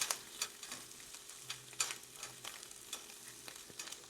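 A steak sizzles and spatters in a Cinrox stainless steel pan, a steady close frying hiss broken by regular crackling pops, with no talking.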